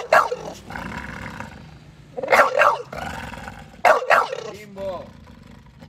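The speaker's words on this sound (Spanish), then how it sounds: "Le ladra a la gente, boludo." A dog named Bimbo lets out loud, rough barks in three clustered bursts, close and echoing, with people talking between the barks.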